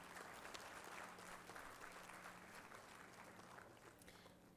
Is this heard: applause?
yes